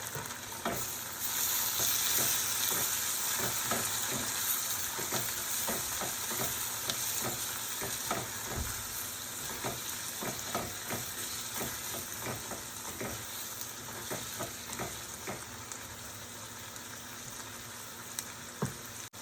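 Onion and agathi greens sizzle steadily in a hot pan while a utensil scrapes and stirs them in frequent irregular strokes, close up.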